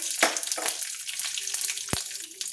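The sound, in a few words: curry leaves sizzling in hot oil tempering with mustard seeds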